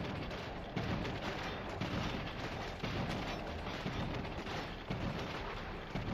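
A squad firing together in Cepheus Protocol, a dense, continuous roar of overlapping gunshots with periodic heavier thumps, loud and unbroken, no talk.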